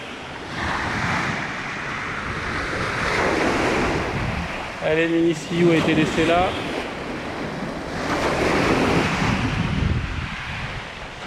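Waves wash onto a beach with steady surf and wind noise, while a person speaks briefly over the water in the middle.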